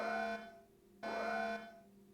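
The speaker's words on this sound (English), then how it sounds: "I hope that alarm does not stay on the whole time." An alarm blares in the video game Carrier, a harsh buzzing tone in two pulses, each about half a second long, with a short gap between, loud and close against a quiet background.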